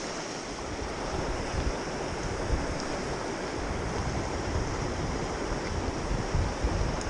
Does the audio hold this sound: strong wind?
yes